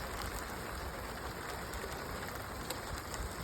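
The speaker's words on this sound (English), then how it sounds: "now it's pouring down rain. Just like to show you how big the drops are." Heavy summer rain pours down steadily in Mt Shasta, California, a dense, even hiss of large drops drumming on surfaces with no break, loud and close for the whole stretch.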